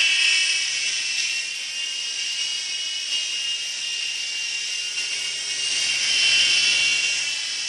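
High-pitched whirring buzz of the rotors of a Sky Rover Liberator small toy helicopter, steady and close, swelling slightly louder near the end.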